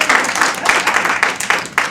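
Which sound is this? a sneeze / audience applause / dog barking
audience applause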